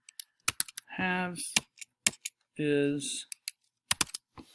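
Quick bursts of computer keyboard typing, a handful of sharp key clicks clustered around two short stretches of talking, recorded close and clear.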